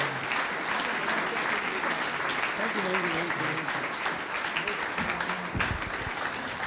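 Sustained, dense audience applause fills a Frankfurt foyer at an evening event honoring actor Mario Adorf, steady and close throughout, with some talk faintly mixed in.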